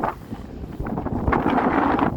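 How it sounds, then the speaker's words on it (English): Gusty wind buffets the microphone outdoors, a broad rumbling roar that swells louder in the second half. "Pretty windy out here."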